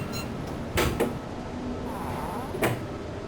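A door opening in Tomb Raider 2 Remastered, heard as a few short, close knocks and scrapes spread across a few seconds over a quiet, steady background.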